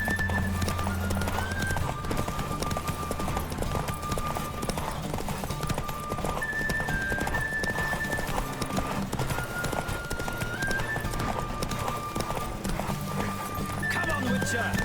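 Horse galloping in a race in The Witcher 3: rapid, steady clip-clop hoofbeats run throughout over sustained game music tones, with an occasional whinny.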